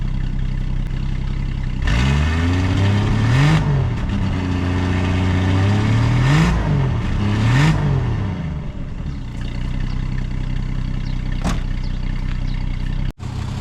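A 1965 Ford Falcon engine runs through its exhaust and muffler tips, close and loud, with a rough choked fast idle broken by three or four quick revs that rise and fall before settling back into a steady rumble.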